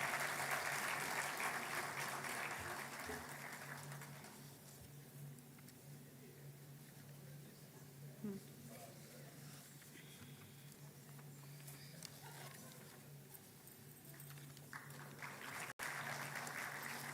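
At an academic conference at NICMAR University, Pune, an audience applauds an award-winning paper team; the clapping is loud at first, then fades into a quieter stretch before a second burst near the end.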